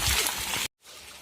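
Heavy rainwater running down a village lane past house doorways, a broad continuous wash of flowing, splashing water, then a sudden cut to a quieter, softer stream of water.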